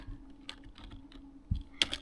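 Sparse key presses on a computer keyboard while typing a web address into a browser, a few scattered clicks and taps, close and fairly quiet with no talk.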